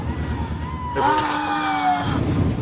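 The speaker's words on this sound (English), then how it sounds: "The sound of a siren can sometimes block intelligence." A wailing siren tone swells for about a second, rising and bending in pitch, over rumbling traffic noise.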